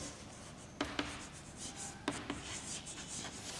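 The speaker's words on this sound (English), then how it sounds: "So we will write paintings and painters." Handwriting scratches softly across paper in a quiet room, a steady faint rubbing with a few sharper taps of the pen scattered through, close up and alone.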